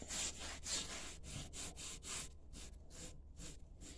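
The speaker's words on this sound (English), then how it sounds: "just rub it all on there really good" Oil is rubbed by hand onto a cast iron pan for seasoning, making quiet rhythmic back-and-forth scrubbing strokes, about a dozen in steady succession.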